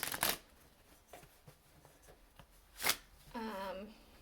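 Tarot cards are shuffled for a reading: quiet papery riffles and soft bursts come in short clusters, with a brief voice rising near the end.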